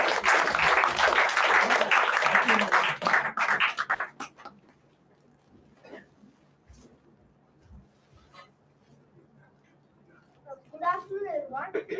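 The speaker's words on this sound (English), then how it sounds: "Let's give him a big round of applause." Audience applause for a student monologue at a solo graduation performance fills the first four seconds loudly, then fades into a quiet room with scattered small noises and a voice beginning to speak near the end.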